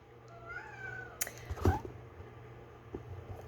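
A pet cat lets out a short meow, faint indoors against a quiet hum, followed by a couple of small soft noises.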